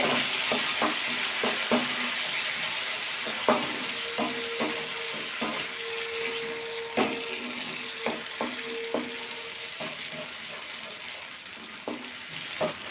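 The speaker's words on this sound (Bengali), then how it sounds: "ভালো করে মশলাটা কষিয়ে নিতে হবে" Masala with salt, sugar and yogurt being stir-fried for a Bengali fish rezala, a continuous sizzle broken by repeated spatula scrapes and taps against the pan, close by.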